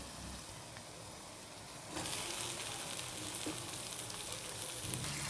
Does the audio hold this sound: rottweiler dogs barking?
no